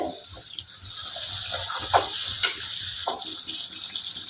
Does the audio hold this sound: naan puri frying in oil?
yes